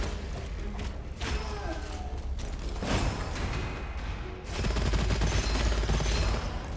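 Rapid gunfire in the first-person shooter Gunfire Reborn, bursts of repeated shots with thuds and mechanical clanks, heavier volleys toward the end, a faint voice underneath.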